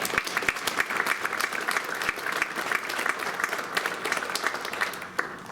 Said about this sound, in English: Let's hear a round of applause for all the parents in the crowd.